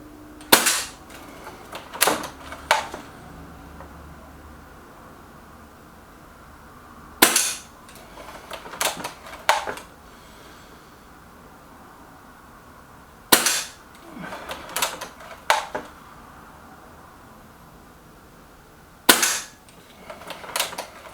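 A Reximex Regime air rifle fires Diablo pellets at a target, four sharp cracks spaced about six seconds apart, each trailed by a few quick mechanical clicks and rattles from handling, against a quiet background.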